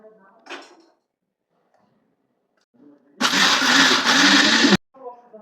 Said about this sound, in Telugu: ఓకే, కొట్టేద్దాం అయితే చట్నీ.